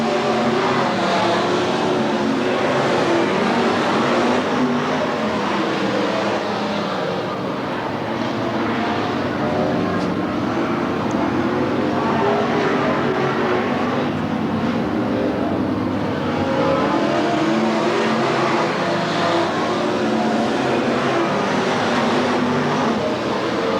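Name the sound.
race cars running laps at Willamette Speedway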